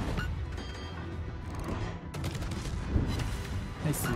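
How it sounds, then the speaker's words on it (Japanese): Naval guns fire at the battleship Bourgogne in the World of Warships video game, a dense run of booming shots and crashes under a constant loud rumble of battle. "火ついたんでブルゴー撃ちます。"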